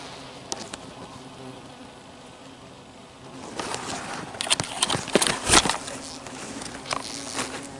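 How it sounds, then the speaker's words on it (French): Dense insect buzzing from a swarm of honeybees under attack by hornets, steady at first and then swelling louder with sharp close passes as individuals fly near. "tout se passe bien pour les abeilles"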